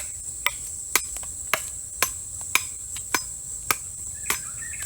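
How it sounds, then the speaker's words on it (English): Sharp, evenly spaced knocks ring out as a stone hammer pounds wooden stakes made from small sticks on a trail, about two strikes per second, over a background of chirping insects. "Then got my stone hammer and then pounded those in"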